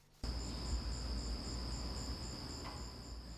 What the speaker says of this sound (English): Crickets, beetles, a wide variety of flying and crawling critters, and even more crickets.